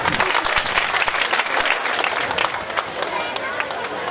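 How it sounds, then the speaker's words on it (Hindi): An audience at a Bhagwat katha gathering clapping, dense sustained applause from a large crowd, loud and close, with a voice briefly audible underneath. "एक बार ताली बजा दो"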